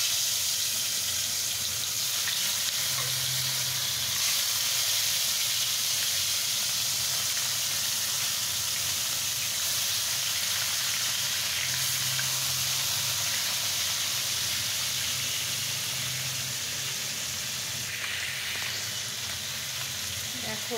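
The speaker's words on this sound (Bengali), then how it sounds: "আমি এখন প্রথমত মাছটা ভেজে নিচ্ছি। তেলটা দিয়ে দিয়েছি কড়াতে।" Tilapia fish fry in oil in a kadai wok, giving a loud, steady, close hiss and sizzle that holds without a break. The frying is heard alone, with no clear speech over it.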